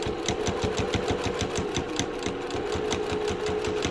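A sewing machine stitches zipper pouch fabric at a steady pace, its rapid rhythmic needle chatter close and continuous throughout.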